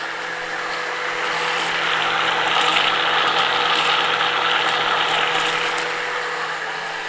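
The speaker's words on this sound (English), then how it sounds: "I'm just mixing it to make sure it really gets sealed in together." Batter for breakfast crepes is mixed with a steady mechanical whirring and rattling churn that swells slightly and holds constant for several seconds, with no talking.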